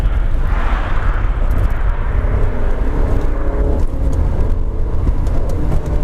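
Steady, loud road noise and engine drone from a Honda Accord Aerodeck cruising in third gear, with a continuous rumble and no talking.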